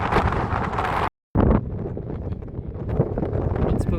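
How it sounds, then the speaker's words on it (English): Strong wind buffets the microphone on an exposed height in Uzbekistan, a loud roaring rumble with a sudden brief dropout, and faint talk mixed in. "It's very windy up here."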